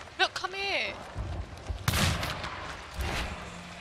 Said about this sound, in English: Why are you trying to shoot it?